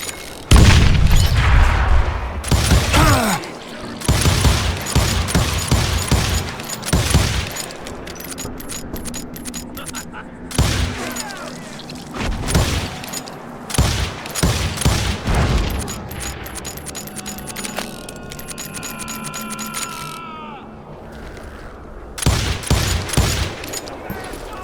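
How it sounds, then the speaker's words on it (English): Gatling gun fire in the Western shooter Call of Juarez Gunslinger, loud bursts of rapid gunfire and heavy booms separated by short pauses, with metallic rattles and clinks in between. "Kid Curry opened up on me with a goddamn Gatling gun"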